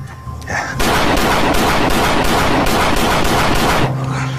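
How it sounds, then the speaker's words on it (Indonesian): A rapid, sustained burst of loud gunfire, several seconds of dense shots packed together, close and harsh, with quieter ambience before and after. "mereka terlihat sedang merekam suara dari sebuah tembakan"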